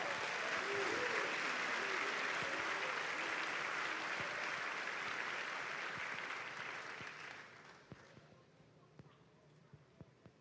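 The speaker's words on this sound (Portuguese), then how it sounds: "Vamos dar um grande aplauso a esses homens." An audience at a live church service breaks into dense, sustained applause that holds steady, then thins and fades to a few scattered claps near the end.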